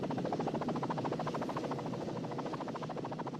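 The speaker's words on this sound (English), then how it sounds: "Airwolf departs in a halo of rotor wash" A video game helicopter lifts off and departs from a yacht, its rotor wash a steady, loud whooshing thrum with rapid, even blade chop throughout and no voices.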